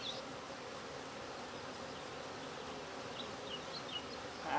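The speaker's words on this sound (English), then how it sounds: "I can get these bees out of here." Honeybees hum steadily around a hive at close range, a continuous soft buzzing with no voices.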